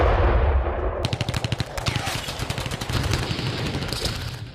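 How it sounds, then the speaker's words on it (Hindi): Rapid machine-gun fire in urban fighting in Gaza, sharp loud bursts of closely spaced shots that begin abruptly after a rumbling lead-in and continue in rattling volleys. "हमास के लड़ाके इजरायल की ग्राउंड फोर्स पर गोलियां बरसा रहे थे"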